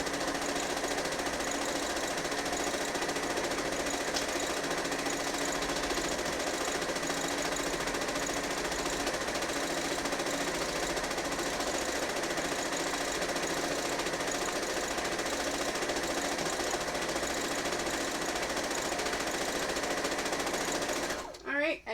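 Sewing machine stitching quilts, a continuous fast mechanical whirring and rattling that runs steadily for a long stretch, then stops abruptly at the end.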